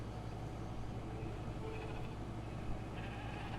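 A sheep named Carl in the Discounty game bleating faintly over a dense, steady background hum, brief and low in the mix.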